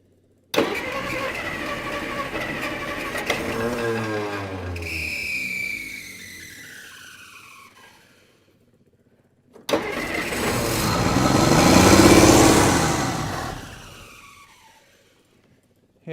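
An old car engine that has sat for 30 years cranks loudly on the starter for several seconds, then falls quiet before a second, longer cranking attempt swells and fades, with no talk.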